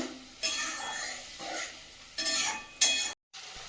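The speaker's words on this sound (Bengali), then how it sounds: "আগে থেকে পেস্ট করে রেখেছিলাম ভালো করে কষিয়ে নেব" Tomato spice paste is stirred and fried in a pan for a fish kalia, giving soft sizzling with several scraping stir strokes in bursts, moderately close, with no talking.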